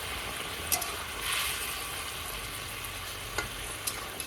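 Boal fish pieces being stir-fried in a pan with a little water, giving a steady soft sizzle with a few sharp scrapes and clinks of stirring, close by and without talk.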